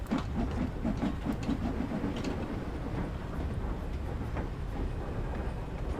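A steam locomotive in the Train Sim World 3 simulator chugs along steadily, with a continuous low rumble, rhythmic clatter and a faint hiss throughout, and no voices.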